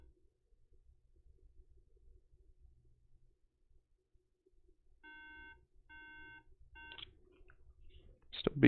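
A MacBook under repair gives a short series of clear, evenly spaced electronic beeps in near silence, followed by faint handling clatter.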